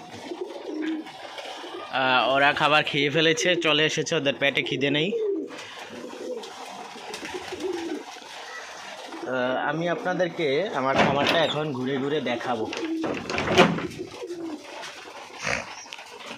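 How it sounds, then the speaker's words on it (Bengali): Pigeons on a pigeon farm being readied for winter, including deshi, kagoji, racer and giribaz birds, coo in repeated warbling phrases close by, with occasional wing or door knocks while someone talks over them. "আমার কবুতর ফার্মের কবুতরগুলো হচ্ছে এগুলা"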